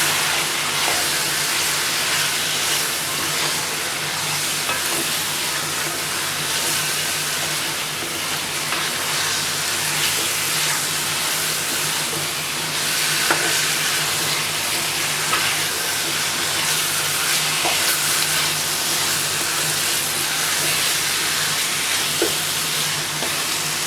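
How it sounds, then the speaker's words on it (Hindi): Chicken rara masala frying in a pan with water added now and then, a loud, steady sizzle with faint scraping from stirring, close up and with no voices. "और अब हम इसे करेंगे फ्राई, थोड़ा पानी डालते रहेंगे ताकि मसाला जले नहीं।"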